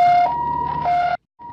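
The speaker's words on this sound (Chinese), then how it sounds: "救护车接着同步出动" An ambulance siren wails nearby in loud, steady alternating tones, cutting off briefly before the next tone begins.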